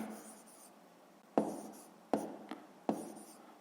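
A pen or pencil writes an answer by hand for a sixth-grade math exercise: soft, close scratching strokes with a few sharp taps as the tip meets the paper, quiet and without talking.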